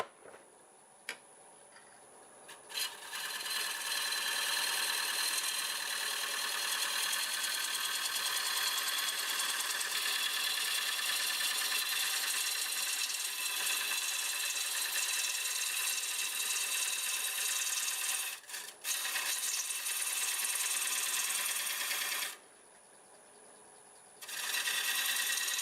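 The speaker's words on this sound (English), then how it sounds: "Switch into a 1/2 inch bowl gouge and we're turning about 600 RPM." A 1/2 inch bowl gouge cuts wood on a lathe turning at about 600 RPM, a loud continuous scraping whir that carries on steadily with a brief dip near the end.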